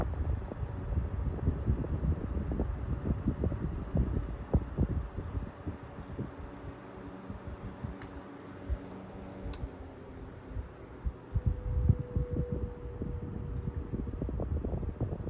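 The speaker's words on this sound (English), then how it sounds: "it's taking a while for it to get up to speed" A royal blue Opolar 8-inch desk fan slowly spinning up, with a steady soft whir under dense, irregular close clicking and faint mechanical rattles, fairly quiet throughout with no voices.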